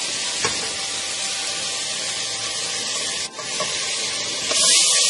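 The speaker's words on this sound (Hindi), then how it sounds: "ये देखिए हमने ऑयल गर्म कर दिया। हम इसमें ब्लेंड किए हुए टमाटर डालेंगे।" Blended tomatoes hit hot oil in a pan and set off a loud, steady sizzle and crackle. It holds throughout and surges sharply near the end, with no talking.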